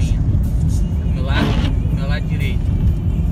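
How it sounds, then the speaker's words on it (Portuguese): A car passes close by on a road during a storm, a broad rushing swell over steady rain and wind noise, while someone talks over it. "Ó, vocês vão ver o carro passar aqui agora."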